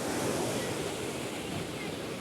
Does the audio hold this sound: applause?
no